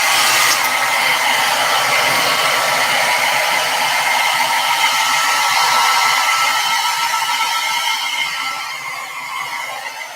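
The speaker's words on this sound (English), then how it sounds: "Hair dryer." A hair dryer blows steadily at close range, a loud continuous whooshing hiss with a motor whine that eases slightly near the end.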